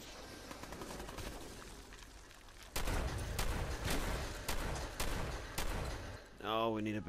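Gunfire from the video game Fallout 4 comes as repeated sharp shots and bursts in a loud, dense din, with a brief tonal sweep near the end.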